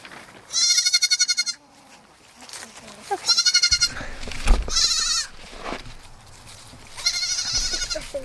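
Goats bleat in loud, wavering bursts, three or four calls spaced a few seconds apart, with some faint background talk and rustling between them.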